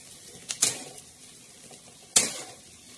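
Poha being stirred in a kadhai, two brief scraping, rustling strokes of a spoon against the metal pan, close and fairly quiet, with soft background hiss between them.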